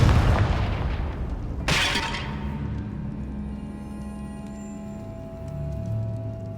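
Confringo blasting curse in Hogwarts Legacy, a booming explosion that bursts out sharply and then fades into a long rumbling decay with lingering debris and ambient tones.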